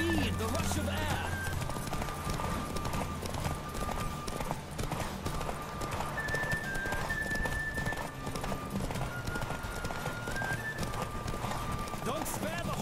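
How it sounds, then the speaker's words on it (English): Galloping horse hooves from The Witcher 3 video game pound in a quick, continuous rhythm beneath game music and voices. "Don't spare the horse."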